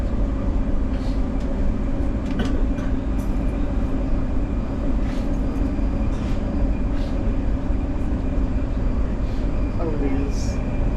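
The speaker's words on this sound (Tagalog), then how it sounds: "Dito tayo ngayon sa loob ng tren." Steady low rumble and rattling inside a moving Riyadh Metro train at KAFD, continuous throughout, with faint voices and occasional squeaks and clicks.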